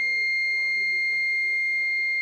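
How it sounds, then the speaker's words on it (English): A buzzer alarm on a breadboard LM358 soil moisture sensor circuit sounds a steady, continuous high-pitched electronic tone throughout, with faint background murmur beneath. "Then output indication LED is on, and also beep, alarm, buzzer."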